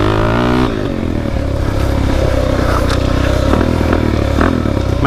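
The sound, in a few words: Suzuki DRZ dirt bike riding through a trail section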